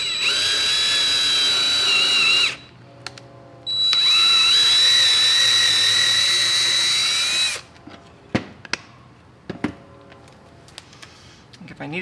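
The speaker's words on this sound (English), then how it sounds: "The drill just really wants to thread its way into the plastic" A power drill whines loudly into 3D printed plastic in two sustained bursts with a brief pause between, followed by clicks and handling noises as a person speaks.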